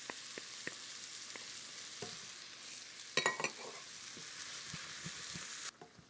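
Chopped onion with ginger paste and garlic paste sizzles softly in a pan for a chicken curry. A short burst of louder stirring clatter sounds midway, then the sizzle drops off near the end.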